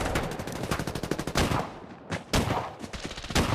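Rapid bursts of automatic gunfire from the battle royale video game Farlight 84 rattle loudly in close succession, with brief pauses between volleys and no talk.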